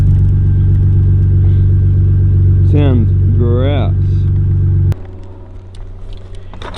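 A BMW E46 car engine with the rear muffler removed idles with a loud, rough, deep rumble, someone speaking over it, before the engine noise suddenly drops away.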